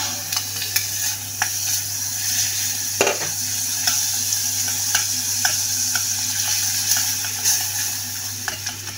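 Two spoonfuls of butter melting for a bechamel sauce sizzle softly in a pan under a low steady hum, with the light clinks and scrapes of stirring throughout and one sharper knock.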